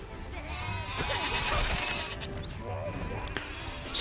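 Sheep bleat in the video game Overlord, a few wavering cries at moderate distance over game ambience, with someone talking over them.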